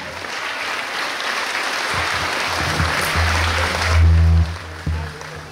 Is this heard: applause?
yes